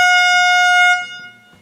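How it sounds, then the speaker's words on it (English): One loud, sustained air horn blast rings close and alone for about a second, then cuts off, with faint background sound left trailing after it. "every time you say something borderline, I'm gonna blow this air horn"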